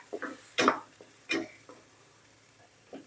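Oyster mushrooms and garlic stir-fried in a pan: a few sharp scraping strokes of a spatula against the pan, spaced irregularly, close and fairly quiet, with no voices.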